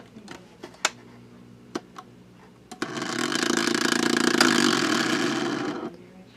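A phonograph motor with a loose bushing starts after a few clicks and runs with a harsh, rasping whir for about three seconds before cutting off, close and fairly loud.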